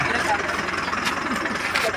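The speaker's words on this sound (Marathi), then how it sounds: "आता ही ट्रॅक्टर आता मागं घेऊन" A tractor engine chugs steadily at low speed nearby as it reverses with a trailer hitched, while someone speaks over it.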